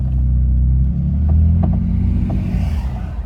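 A Jeep engine in four-low rumbles close and loud at low revs, with a few brief knocks and clunks as it pulls slowly.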